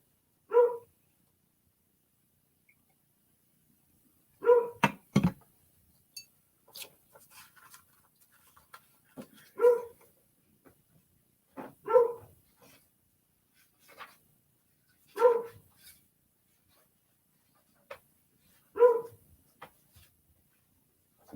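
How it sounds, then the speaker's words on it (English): A dog named Birdie barking indoors, about seven single muffled barks spaced several seconds apart, each short and fairly loud against a quiet room. "see why she's having such a difficult time barking this morning"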